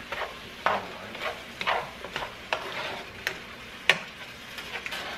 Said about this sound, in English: I'm gonna give this a stir, and I'm gonna let that the alcohol from the wine cook off